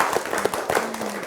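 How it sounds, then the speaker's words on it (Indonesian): A studio audience applauds on an Indonesian regional TV political talk show: a short, dense burst of clapping at steady loudness, with no speech over it. "terima kasih Kak Elia, kita boleh tepuk tangan pemirsa."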